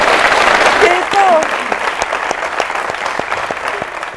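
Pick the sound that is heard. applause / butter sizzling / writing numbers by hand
applause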